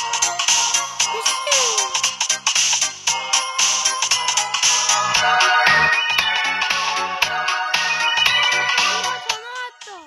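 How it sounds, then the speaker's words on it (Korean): A phone ringtone plays a loud, bright electronic melody with quick repeating notes. It runs continuously for about ten seconds, close up, with no talking. "전화 왔어."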